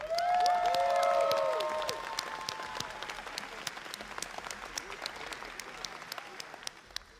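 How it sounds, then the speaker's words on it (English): Audience applause at an online game event, a dense clapping wash loudest in the first two seconds and then thinning, with bright musical tones and a voice over the opening. "I'd like to give a round of applause to the adventurers with their own goals and pushed through to the end."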